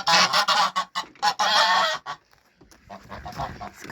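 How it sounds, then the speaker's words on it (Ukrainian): Loud, harsh honks from an agitated gander come in a rapid series of close calls, then fade into quieter background noise. "Гусак у мене здурів, не дає ні зайти"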